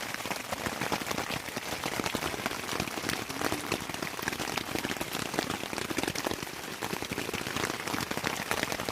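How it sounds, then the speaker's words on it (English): Steady rain patters densely on a nearby tent, a constant close hiss of countless drops with no pauses. "Yes, it's raining."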